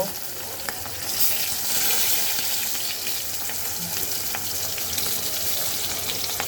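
Fish frying in hot white oil in a wok, a dense, even, close crackling sizzle that runs throughout with a few faint pops and no speech.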